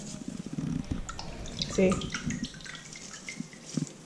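Water sloshing and dripping in a sink as a turtle's algae-covered black shell is gently scrubbed, soft irregular splashes close by, with a person speaking briefly over it.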